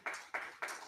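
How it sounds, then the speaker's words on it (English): Audience at an office industry summit claps for panelists in three or four evenly spaced, fairly faint bursts, each a short smack that trails off quickly. "A round of applause for our panelists."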